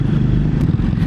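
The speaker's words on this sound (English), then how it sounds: "Oh yeah, it's a diesel engine as well." A steady, rumbling diesel engine of a 4x4 (TD5) idles close by, a low, throaty drone with faint clatter and no talking.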